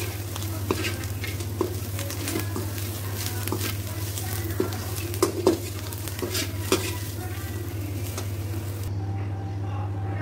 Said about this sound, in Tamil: நம்ம சில்லி ஃப்ரை சில்லி இட்லியை சேர்த்துக்கலாம்.